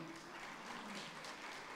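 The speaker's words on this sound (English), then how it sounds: "Put your hands together as she comes forward." Conference audience applauding as a speaker on ethical governance comes forward, a steady wash of many hands clapping throughout, fairly distant and even, with no talk over it.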